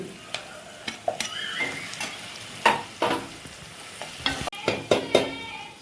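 Chicken curry with ginger-garlic paste and chopped green chillies is stirred in a sizzling pan: soft frying hiss broken by repeated close scrapes and knocks of a spoon, irregular and fairly loud, with no talking.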